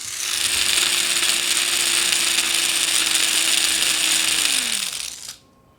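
A Bandai toy car motor unit from a Mini 4WD-style car runs right next to the microphone with a loud, steady high-pitched buzzing whir for about five seconds, then winds down and cuts off, with no speech.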